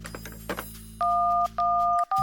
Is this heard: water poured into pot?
no